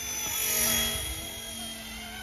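An RC ERA C189 MD500 camo-scale model helicopter flies nearby, giving a steady high-pitched electric motor and rotor whine with a faint low flutter, swelling slightly then holding level.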